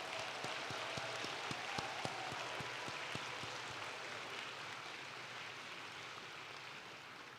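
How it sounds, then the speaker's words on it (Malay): Dense, sustained applause from a large crowd at a university graduation ceremony, a steady roar of many hands with a few sharper claps early on, gradually easing slightly toward the end. "Kita berikan tepukan gemuruh kepada mereka."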